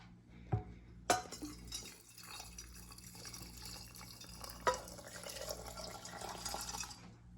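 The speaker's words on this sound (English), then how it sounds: "I'm gonna go ahead and try to pour the rest of this brine in here." Pickling brine is poured into a jar of eggs, with a few sharp clinks of glass at the start and then a soft, uneven trickle and splash of liquid, close and fairly quiet.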